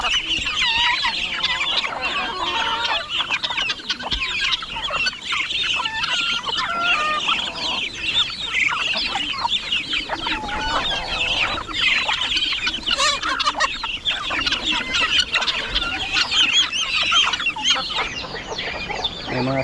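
Chickens on a small farm clucking and chattering throughout, several birds close by with overlapping calls and squawks over a busy, steady outdoor background.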